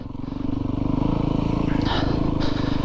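A Yamaha YZ450FX dirt bike engine running at close range, a steady throbbing four-stroke drone with a brief rising rev and some clatter, with a voice faintly underneath.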